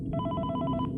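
A video game telephone rings in one quick burst of rapid, bright electronic trills, clear and close against a low background hum.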